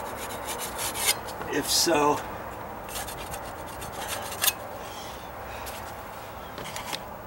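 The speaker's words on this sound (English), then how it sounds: "then you can check it and scrape it how you need to" A tool scrapes and rasps against wood during a deck stair repair, giving intermittent close rubbing strokes with a brief louder scrape, under a few quiet spoken words.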